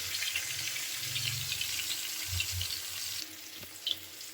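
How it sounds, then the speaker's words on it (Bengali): Pieces of katla fish fry in hot oil with a steady, soft hiss, broken by a few low bubbling pops and a brief sharper crackle near the end. "মাছটাকে ভালো করে ভেজে নিচ্ছি"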